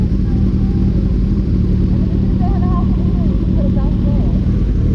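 Motorcycle riding near waterfront houses with docks, a constant loud engine rumble mixed with wind roar, heard close up under a rider's voice.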